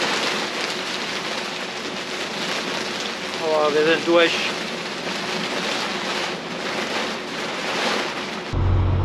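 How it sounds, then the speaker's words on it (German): Heavy rain pouring down steadily on a boat, a dense close hiss that runs unbroken, with a short burst of chirping partway through and a brief spoken phrase near the end. "Und jetzt geht es auch noch richtig stark über Regen."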